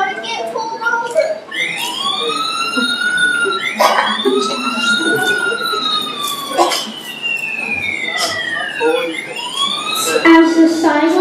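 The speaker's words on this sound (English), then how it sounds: "As the siren grows louder, Thurgood pulls the car over to the side of" A police car siren wails in repeated rising and falling sweeps, loud and growing nearer, with overlapping tones and some background noise throughout.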